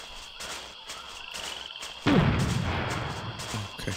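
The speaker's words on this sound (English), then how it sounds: "Okay, explosion." An explosion in the video game We Were Soldiers: quiet background game ambience and faint pops, then a sudden loud boom about halfway through that rumbles and decays slowly to the end.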